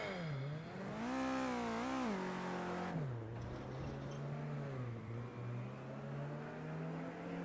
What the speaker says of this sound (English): I thought I heard car off in the distance